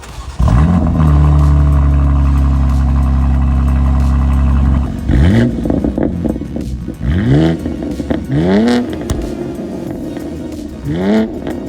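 BMW M2 with catless downpipes and a stainless steel catback exhaust, loud and close: a sustained high-rpm hold of about four seconds, then a string of sharp rev blips rising and falling with crackles between them.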